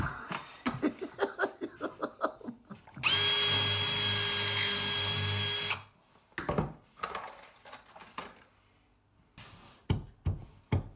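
A power drill runs in one steady burst of about three seconds in the middle, fitting a wall safe, with rhythmic knocking and handling noises before and short sounds after; no speech over the drilling.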